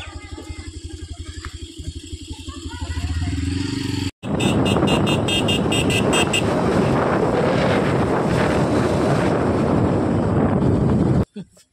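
A motorcycle engine starts up and runs loud and steady for several seconds with wind buffeting the microphone, then cuts off abruptly.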